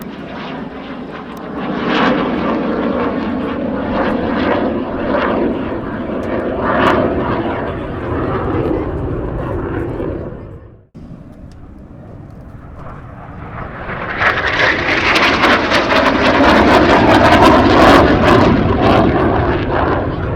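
An airplane at an airshow roars past at about 180 knots, a broad loud engine rush that holds steady, briefly cuts out, then swells again as it passes close.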